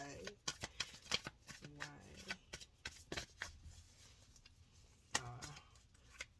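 Tarot cards are shuffled up close in quick riffling bursts, with a few soft card slaps in between, and a voice speaks quietly underneath.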